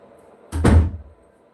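A door closes once indoors, a single dull, heavy thud that fades quickly, with quiet room tone before and after.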